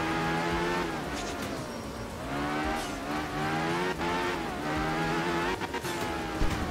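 A powerful Group S rally car in Art of Rally roars continuously, its engine note climbing and dropping through gear changes with rising revs, close and loud, with no talking.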